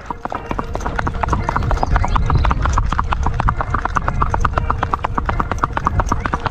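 Horse hooves clip-clop in a steady, brisk rhythm, close and loud throughout, as a horse fitted with front boots and a bit works in hand; a voice talks faintly underneath.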